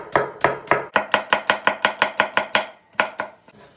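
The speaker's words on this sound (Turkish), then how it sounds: "Bu yemeğimizde bir tane orta boy soğan doğrayacağız" A knife chops a medium onion steadily on a cutting board, about fifteen crisp, evenly spaced strokes, a short pause, then a few more quick chops. Close and clear, no voices.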